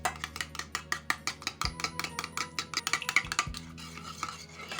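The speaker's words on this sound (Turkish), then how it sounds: "bir parmak eksik sıvı yağ da ekleyip onu da güzelce bir karıştırıyorum." A spoon beats sunflower oil into a spinach börek filling of eggs, rapid rhythmic strokes clinking against the bowl about four times a second, close and steady, with no voices.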